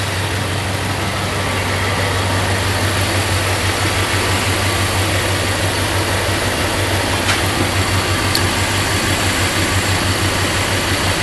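A V8 car engine idling steadily just after an oil change, a continuous low rumbling hum heard up close, even and unbroken for the whole stretch with no talk over it.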